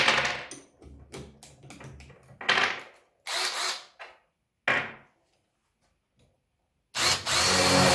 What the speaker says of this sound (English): And now let's try to drill.